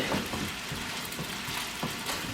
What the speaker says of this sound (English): Okay, put in gently and stir it.